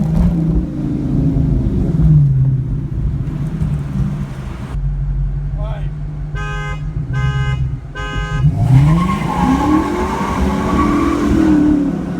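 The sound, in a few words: Dodge 5.7L Hemi wheelspin, tires squealing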